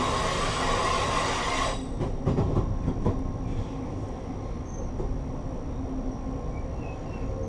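Amtrak Train 151 rumbles along the rails near Lynchburg, a loud steady roar that softens partway through into rhythmic wheel clatter and faint squeals, with no voices.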